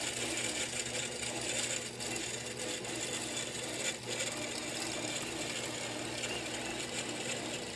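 A long arm quilting machine stitches raw edge appliqué with a fast, steady mechanical whir and needle chatter, close and continuous with only slight dips in rhythm.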